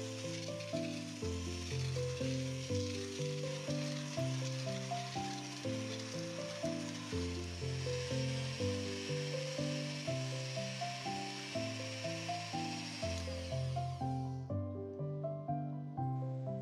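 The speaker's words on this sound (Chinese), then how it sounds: "使用电动搅拌器混合奶油与细砂糖，并将奶油打发至微微发白。" An electric mixer beats butter with fine sugar in a large bowl, a steady whirring hiss running beneath background music for most of the stretch before cutting off near the end.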